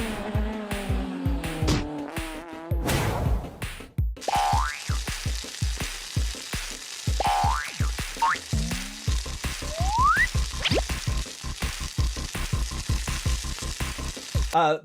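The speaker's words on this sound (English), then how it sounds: "If you're making chips in a pan" Chips fry in a pan with loud, continuous sizzling and crackling, broken up by repeated springy boing-like rising tones and dull knocks.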